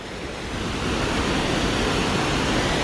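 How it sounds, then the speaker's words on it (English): Loud, unbroken rushing roar of water from a waterfall at Thingvellir National Park in Iceland, heard up close as dense broadband noise that swells slightly and then holds steady, with no voices. "Alright, so here we are at the waterfall."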